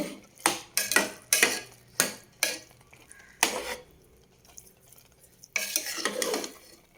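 A spoon works through thick kaima rice payasam with jaggery in a pot, making a run of regular scraping, clacking strokes, then a pause and a final flurry of stirring, close and loud, with no voices.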